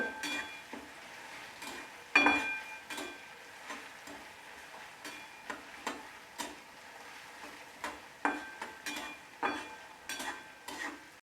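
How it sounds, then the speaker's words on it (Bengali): Onions frying in a pan for a cauliflower curry, with quiet sizzling broken by intermittent sharp clicks and scrapes of stirring against the pan, close and fairly soft. "পেঁয়াজটা লাল করে আমি ভেজে নেব।"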